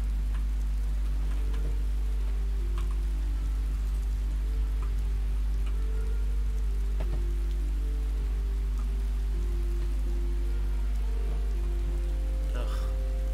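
Continuous rainfall in a modded Skyrim game, a dense steady patter of drops with a constant low rumble underneath and occasional soft ticks, unbroken throughout.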